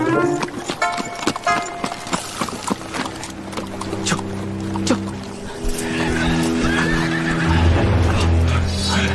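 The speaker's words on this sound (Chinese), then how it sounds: "好像有马蹄声。" Horse hooves and neighing in a period drama battle setting, a horse whinny sounding amid clattering hooves and dense background score, with a rising rumble of approaching movement toward the end.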